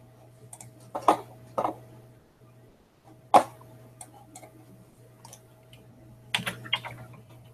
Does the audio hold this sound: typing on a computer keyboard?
yes